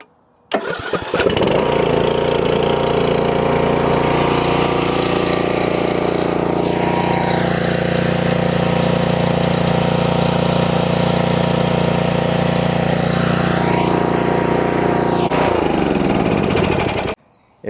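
A used DR Pro 26 brush mower engine cranks and catches, then runs loud and steady at idle with a couple of brief revs before shutting off.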